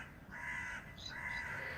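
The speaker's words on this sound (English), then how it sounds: "I do hear a crow." Crow cawing outdoors, two drawn-out harsh caws at moderate distance, faint over a low background hum.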